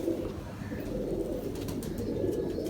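Domestic fancy pigeons coo softly and repeatedly, low throaty calls nearby against a faint background hum.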